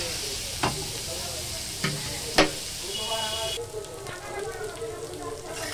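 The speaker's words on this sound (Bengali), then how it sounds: "এবার এটা খুব ভালো করে ভেজে নেব" Bitter gourd (krela) frying in a pan over a lowered gas flame gives a steady close sizzle, broken by a few sharp clinks of stirring, with no talk.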